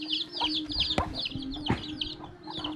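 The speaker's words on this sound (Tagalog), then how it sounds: "Pakainin natin ang alaga nating manok mga tangay." Chickens cluck and chatter nearby while being fed, with short repeated calls and a few sharp knocks and scratching sounds in between.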